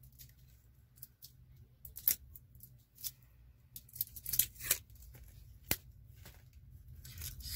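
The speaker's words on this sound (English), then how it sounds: "I always have the worst time with these plastic wrappers. They never wanna come off." A plastic wrapper being pulled off a small product, with sharp sporadic crinkles and tearing snaps scattered over a quiet room, a few louder crackles midway, no talking.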